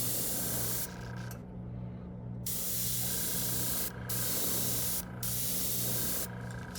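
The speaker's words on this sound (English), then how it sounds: "So I have to spray it a few times to build it up," An airbrush sprays transparent paint in long steady hissing bursts, broken by brief pauses between passes, close and fairly quiet, as the colour is built up in layers for a smallmouth bass rose pattern; no talking.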